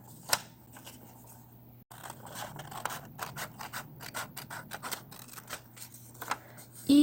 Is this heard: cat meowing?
no